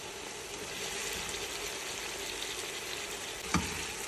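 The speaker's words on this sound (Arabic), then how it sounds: "هذه نحط الماء الحار الحين" Hot water streams into a pot of lentils and pumpkin, a steady broadband rush and hiss lasting throughout, with a brief clink near the end.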